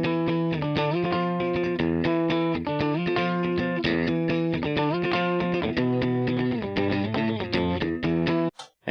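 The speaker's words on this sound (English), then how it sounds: "this is some stupid little guitar line that I recorded just a little bit ago." A distorted electric guitar plays a busy, repeating melodic line with a thick effected tone and steady loudness, then cuts off abruptly at the end.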